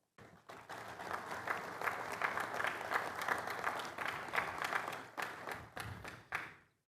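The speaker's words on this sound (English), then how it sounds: "Please join me in a heartfelt round of applause for Team Kwaj." Audience applause at a US Army garrison change of command ceremony on Kwajalein Atoll, a sustained round of many hands clapping that swells quickly, holds steady for several seconds, then tapers and stops.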